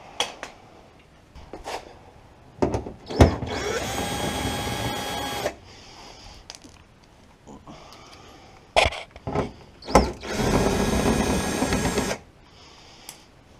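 Screws are unscrewed during a cold air intake install on a RAM 1500, with two long whirring bursts from a power driver between clicks and knocks; someone talks in between.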